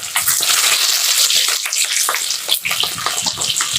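Onions and green chilies sizzling in a hot pan for a healthy daliya khichuri, a dense, steady crackling hiss with scattered pops running throughout, close and fairly loud with no talk.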